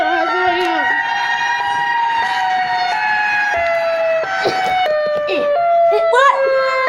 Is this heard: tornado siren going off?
yes